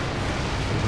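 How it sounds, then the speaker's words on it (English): A Soviet SU-85 tank destroyer fires its gun in a Company of Heroes 2 match, one low, dull boom rolling out of continuous rumbling battle noise, fairly distant, with no talk. "SU-85 a little bit out of range. And misses its first shot."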